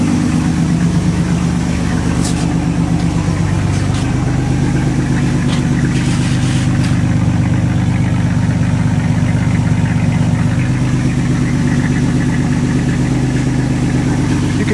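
A 1986 Cadillac Cimarron engine idles at operating temperature with a worn exhaust, giving a loud, steady, rough low rumble that carries throughout without a break and with no talking.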